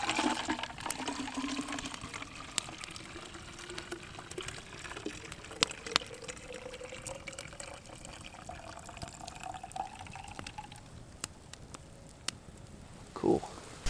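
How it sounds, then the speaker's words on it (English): Boiling water is poured into a Nalgene bottle outdoors at a winter campsite, a quiet, rising gurgle of filling liquid with scattered clicks and handling noise that ends in a short splash. "Got the Nalgene here. Got some boiling water there."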